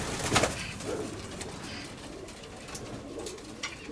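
Pet pigeons give soft, low cooing calls, faint and a little distant, with a brief flutter of noise near the start and a quiet background.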